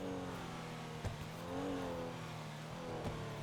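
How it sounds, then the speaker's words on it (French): A car drives by, its engine note rising and falling as it moves past at a distance, faint and steady without any talk. "Il y a un véhicule."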